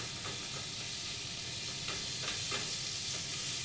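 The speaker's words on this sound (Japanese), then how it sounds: "温度を上げてここでちょっと手早く混ぜて、で水分をどんどんどんどん飛ばしながらマッシュルームが縮むところまで炒める。" Mushrooms sautéing over high heat in a pan, a steady loud hiss and crackle with a few quick scraping stirs breaking through as moisture cooks off.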